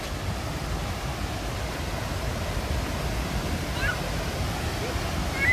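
Steady, broadband roar of a strongly flowing seasonal waterfall in Khao Yai National Park, Thailand, heard as a continuous wash at moderate level with a few faint bird chirps near the end.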